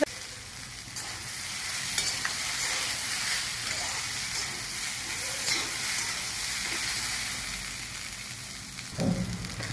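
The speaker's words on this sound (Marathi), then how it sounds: "आता ही परतून घेतली चांगली तेलामध्ये" Okra sizzles and fries in hot oil in a home kitchen pan, giving a steady loud hiss throughout with occasional stirring scrapes.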